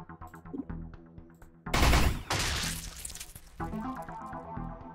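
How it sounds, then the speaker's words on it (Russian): Loud burst of automatic gunfire in the sci-fi video game Deep Sky Derelicts, a dense rattling volley of close shots over quieter game background sounds, then fading back to ambient noise. "Неплохая очередь. Выстрел в упор просто."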